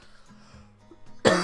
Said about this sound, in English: Actually made me cough.